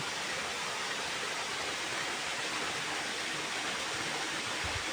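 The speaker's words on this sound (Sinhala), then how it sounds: "මගේ පිටිපස්සෙන් ලස්සන දිය ධාරාවක් ගල් පර්වතයක් මුදුනින් බිමට කඩාගෙන වැටෙනවා" A waterfall on the Walloya road in Sri Lanka cascades over a rock face onto the ground below, giving a steady, even hiss of falling water without pause.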